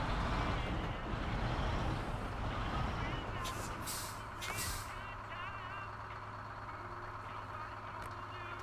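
SnowRunner truck with a heavy diesel engine rumbling close and steady, an air brake hissing sharply midway, then faint repeating reversing beeps over the idle while someone talks throughout.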